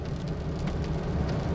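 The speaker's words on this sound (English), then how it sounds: "See, look at the fucking rain." Rain falls steadily as a continuous dense hiss with a low rumbling undertone, fairly loud and unbroken, with no voices.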